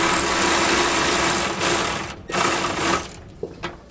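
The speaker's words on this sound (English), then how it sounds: "We're going to be using a 13 millimeter socket to loosen it up." A 13 mm socket on a power tool loosens suspension bracket bolts on a 2018 Ford F-53, a loud, fast buzzing whir in close-up that runs for about two seconds, then breaks into shorter bursts and rattles.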